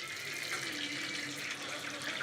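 Tap water runs steadily in a Mumbai home, a continuous close hiss and splash with no voices.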